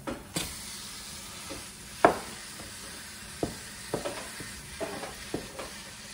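Beef sizzles softly in a pan, with a sharp hiss as it goes in, then scattered scrapes and taps of a spoon stirring and breaking it up.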